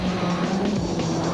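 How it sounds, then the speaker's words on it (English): Rally cars lap the Killarney circuit during a Cape Rally super special stage, giving a close, steady roar of engine and road noise with a sustained low drone; no tire squeal stands out. "with the cars lapping Killarney the wrong way round"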